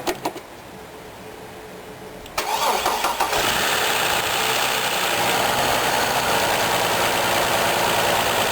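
Chevrolet Trailblazer engine after a valve job: a quiet shop hiss, then a sharp starter crank that catches into a loud, steady idle running close up to the end, with no talking.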